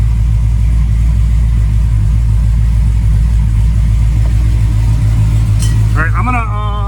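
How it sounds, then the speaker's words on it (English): Car fitted with a freshly changed Ford 9-inch rear gear set rumbles loud and deep at close range with a light touch of throttle, and a voice breaks in briefly near the end. "it sounds really good when you give it a little throttle"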